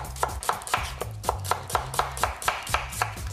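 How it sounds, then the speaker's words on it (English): A knife slices carrots and onions for braising on a cutting board, with about a dozen steady, evenly spaced chops sounding close and alone. "Secret of slicing vegetables for braising is not getting too thin."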